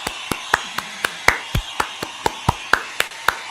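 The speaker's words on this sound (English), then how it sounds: "I'm going to pan some applause to the left" During a quarantine home concert, a single pair of hands claps sharply and close up, about fourteen evenly spaced claps at a brisk, steady pace against a quiet background.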